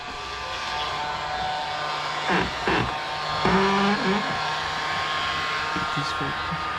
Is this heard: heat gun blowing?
yes